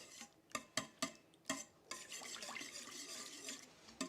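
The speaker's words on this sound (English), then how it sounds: "I'm going to start out with a whisk" A whisk working cream cheese in a bowl for a festive ribbon salad: several sharp clicks against the bowl's side, then a stretch of steady scraping and stirring, close and fairly quiet, with no talk.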